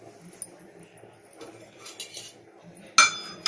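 A pan is set on a stove at medium flame before frying raisins in ghee, producing soft faint clanks and small rattles, then one sharp metallic clatter near the end, close by.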